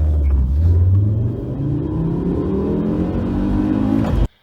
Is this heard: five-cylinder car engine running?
yes